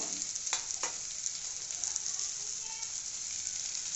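Vegetables sautéing in coconut oil in a pan, with a soft steady sizzle and a couple of quick clinks early on, heard alone and fairly quiet.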